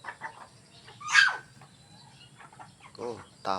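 Native chickens cluck and call in short, scattered bursts at a farmyard feeding, fairly faint and close, with a sharp squawk and a person speaking quietly between them.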